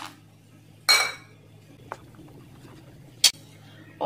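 A bowl of makhana (fox nuts) goes into a pot of boiled milk: a few sharp clinks and knocks of metal bowl against pot, spaced apart over a low background hum, with no speech.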